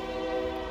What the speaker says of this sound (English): That's a loud horn too.